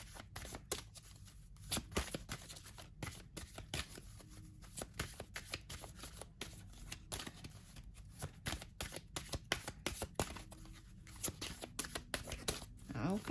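Oracle cards from a Sacred Spirit Reading Cards deck are shuffled steadily, giving a continuous run of quick, soft riffling flicks close to the listener, with no talking.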